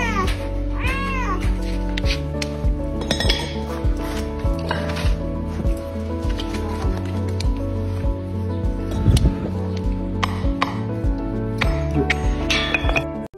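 A cat stuck with its head through a tiny hole meows and wails repeatedly, drawn-out plaintive cries close by, mixed with rubbing and knocking sounds and a steady hum underneath.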